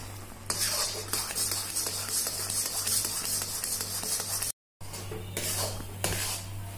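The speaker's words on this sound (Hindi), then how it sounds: "इस तरह से हम हिलाते रहेंगे ताकि ये नीचे ना लगे" A spoon stirring milk cake batter with ghee in a pan on the stove, steady scraping and clinking over a low hum, close and continuous with a brief dropout.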